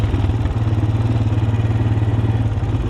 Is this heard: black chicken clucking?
no